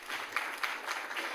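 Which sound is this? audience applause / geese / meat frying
audience applause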